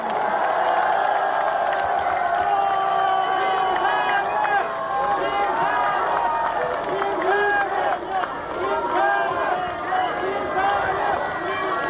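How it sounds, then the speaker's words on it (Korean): A crowd at an outdoor political campaign rally in Iksan claps and cheers in a loud, sustained roar, with an amplified voice and tonal calls or music sounding over the noise. "박수로 환영해 주십시오."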